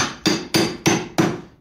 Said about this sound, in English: it can be used as a hammer